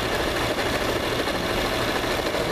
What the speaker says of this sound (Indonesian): Suara mesin yang jauh lebih lembut, hasil lebih akurat.